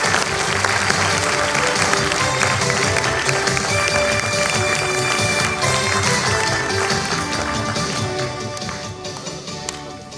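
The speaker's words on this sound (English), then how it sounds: "Please give a round of applause." A crowd applauds steadily for the guest of honor at a 25th-anniversary Silver Jubilee celebration. The clapping is loud and sustained for about ten seconds over faint tonal music, then thins toward the end.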